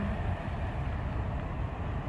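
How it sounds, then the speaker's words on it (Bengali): A passing train gives a continuous low rumble and roar, close and steady throughout, with no talk over it. "দেখো, ট্রেন যাচ্ছে এখন"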